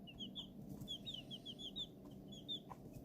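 A brood of 18 small chicks peeps in high, repeated chirps throughout, their calls tumbling over one another in quick bursts against a steady low background rumble.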